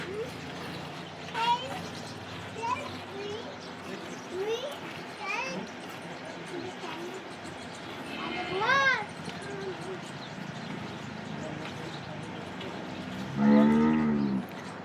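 A cow moos loudly near the end, a long low call, after a stretch of background chatter and other animal sounds from a farmyard at milking time.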